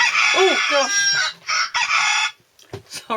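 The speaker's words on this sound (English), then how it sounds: "And yes, it's a cockerel." A phone alarm ringtone of a cockerel crowing plays loud and close, a full cock-a-doodle-doo followed by clucking phrases, with brief talk at the end.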